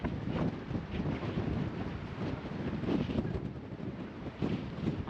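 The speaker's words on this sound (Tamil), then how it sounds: "பயங்கரமாக காற்றடிக்குது." Strong wind blows outdoors near a bridge in Hungary, a steady rough roar buffeting the microphone with no voices.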